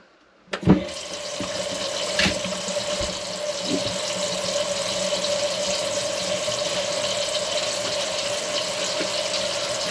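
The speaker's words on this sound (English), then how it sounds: "Okay, so let's run some water." Water runs steadily from a sink tap after a sink strainer is redone, starting with a sharp knock and gush, then settling into a constant, moderately loud hiss and splash that fills the whole stretch without talk.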